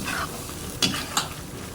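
Bihun goreng sizzles steadily in a pan while a spoon scrapes and stirs, with two brief sharper clinks against the metal.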